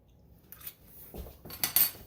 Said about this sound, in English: You got to hear that crunch.